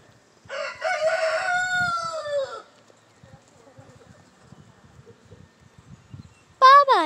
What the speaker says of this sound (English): It's the chickens.